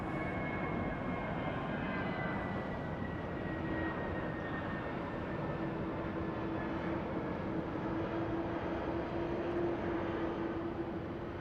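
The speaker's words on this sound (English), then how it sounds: "Helix 9 Delta, runway 34 left, clear for takeoff." An airliner takes off from runway 34 left at Sydney Airport, a steady, continuous jet engine roar with a rising whine, heard from a distance and unbroken throughout, with no talk.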